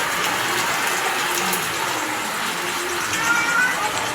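Heavy rain pours with floodwater flowing, a dense, steady hiss filling the whole stretch at moderate loudness, with faint scattered background sounds and no clear talk.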